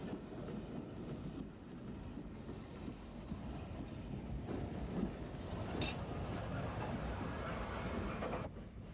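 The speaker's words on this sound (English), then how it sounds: "We will head back to Ryde, crossing another Ventnor train en route." A train rumbles steadily along the rails on the Isle of Wight, with a continuous low roar and faint rhythmic clatter of wheels, no voices.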